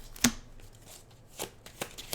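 Game cards shuffled into a deck during a tabletop card game: one sharp close snap, then a few softer riffles and taps that are brief and loud, with no voice over them.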